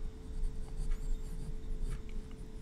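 Pencil scratching and rubbing across paper while sketching cartoon characters, close and quiet, with short bursts of strokes and brief pauses, no talking.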